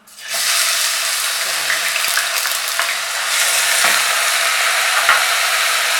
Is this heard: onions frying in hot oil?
yes